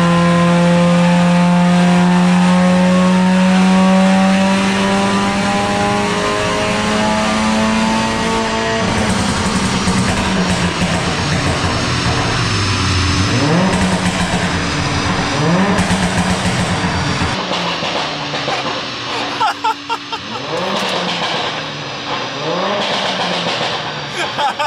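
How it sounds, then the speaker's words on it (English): A straight-piped Mercedes A45 AMG revs hard close by, its loud exhaust note rising and falling through repeated sweeps, with crackles and pops toward the end and voices talking over it. "if your exhaust is popping and banging, then you're a man."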